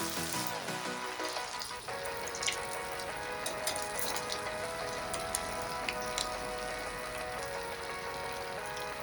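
Medu vada, Marathi-style lentil fritters, sizzle steadily in hot oil in a kadhai, a dense crackling fry that begins sharply and carries on loud and close for several seconds with no talking.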